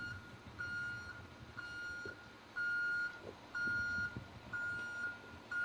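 A tree care work vehicle backs up, its reversing alarm sounding clear regular beeps about once per second over a low engine rumble outdoors.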